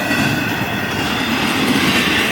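A speeding freight train with 202 axles at 49 miles an hour thunders past up close, a loud continuous rumble with clattering wheels and faint squeal, no voices.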